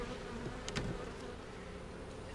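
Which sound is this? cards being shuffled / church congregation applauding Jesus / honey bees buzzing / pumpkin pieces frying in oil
honey bees buzzing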